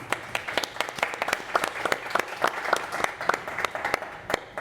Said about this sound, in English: So please give a big round of applause to him